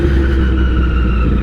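An older 1000cc motorcycle with an unbranded aftermarket exhaust revs loud and close, a deep steady throaty roar with constant low rumble and no pauses.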